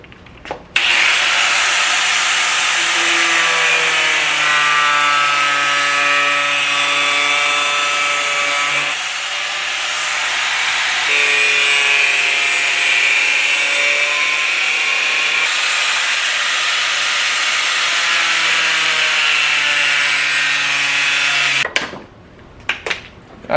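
A power tool cuts a part for a K Tuned billet shifter install with a loud, sustained whining cut lasting about twenty seconds, briefly dipping in pitch partway through, then stopping with a few clunks.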